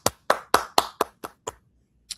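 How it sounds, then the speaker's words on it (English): Slow, deliberate hand claps in a basketball setting, seven sharp claps in an even rhythm that gradually softens, then a pause before one final lighter clap, close and alone without talk. "I actually hate the clapping"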